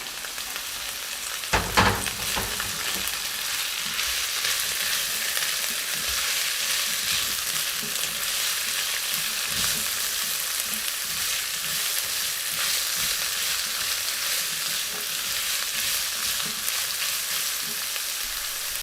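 Green chili and onion sautéing in a pan for a shrimp dish, a loud, steady, close sizzle of frying with occasional stirring scrapes, continuous and unbroken, with no voices.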